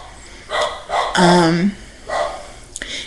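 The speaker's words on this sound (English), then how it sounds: "it's my dog barking" A pet dog barks indoors in a few short, fairly loud bursts with pauses between them, close to the microphone and with no talking over it.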